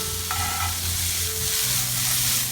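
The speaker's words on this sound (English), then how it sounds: "my onion and peppers is cooking right now" Onions and peppers fry in a pan for a Philly cheesesteak, a close, constant sizzle with a low hum underneath and no talk.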